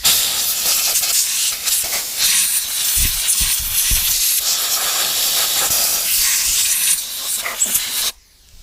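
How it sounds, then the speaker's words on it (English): A loud, continuous blast of compressed air hisses from an air gun for several seconds while cleaning a Briggs and Stratton 500e lawnmower, wavering slightly, then cuts off abruptly. "So I'm just going to get my air gun. Compressor's already fired up."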